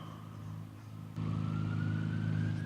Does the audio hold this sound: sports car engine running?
yes